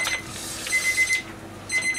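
A kitchen timer beeps in quick bursts of high electronic pips, loud and close, repeating twice over a quiet kitchen background while cooking oden.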